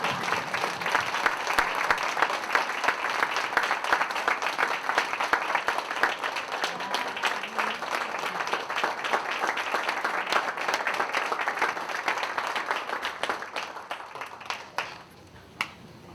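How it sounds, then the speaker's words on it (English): An audience at a Torah rededication claps in sustained, dense applause for about fourteen seconds, then it thins out and fades to scattered claps near the end. "Now you can clap!"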